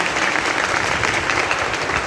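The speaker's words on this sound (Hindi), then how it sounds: "एक बार उनके लिए जोरदार तालियां हो जाए" A crowd in a hall applauds loudly for the hall owner, dense continuous clapping with no pauses across the short stretch.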